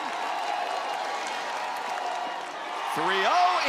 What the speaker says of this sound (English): This Alabama crowd trying to put the pressure on her in this moment.